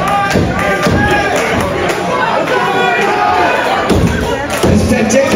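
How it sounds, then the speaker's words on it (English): Wrestling crowd in Penticton roars and chatters continuously, with thumps from the ring cutting through and a commentator speaking over the noise. "This Penticton crowd behind Charlie, they're getting him back to his feet"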